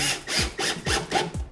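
A power drill drives a screw into a cabinet door while hanging it, giving several short, close whirring bursts in a quick rhythm with a ratcheting edge.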